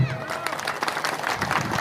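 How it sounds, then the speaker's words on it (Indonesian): Audience applause at an Indonesian religious lecture, a burst of dense scattered clapping from the crowd, moderately loud and sustained, with a voice briefly audible at the start. "Tepuk tangan dulu"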